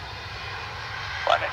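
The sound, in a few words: airliner landing at Dublin Airport using heavy reverse thrust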